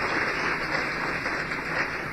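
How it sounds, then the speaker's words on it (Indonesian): A church congregation claps during a service: steady, continuous applause that fills the room at an even level for a couple of seconds. "Beri tepuk tangan yang meriah kepada Tuhan"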